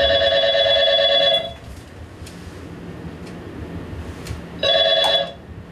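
A mobile phone call to the 112 emergency service rings back twice, a steady electronic ring tone repeating about three seconds apart over faint background hiss.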